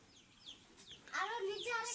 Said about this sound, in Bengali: এই যে আমাদের মুরগি আমাদের কাছে এসেছে